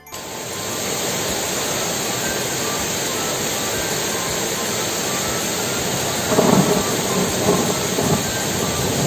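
Steady, dense rain pours throughout, with a low rumble of thunder rolling in near the end.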